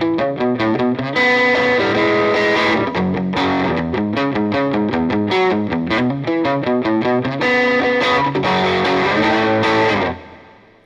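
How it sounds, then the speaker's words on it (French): Electric guitar run through a gain switch, moving from crunch to overdrive tone: loud, continuous distorted chords and riffs played alone for about ten seconds, then cut off abruptly. "On passe du crunch à l'overdrive avec le switch du gain"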